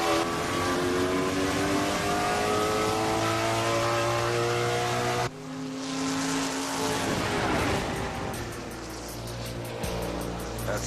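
A race car accelerates hard on a racetrack, its engine a loud, sustained rising drone that shifts pitch partway through, with no talk over it.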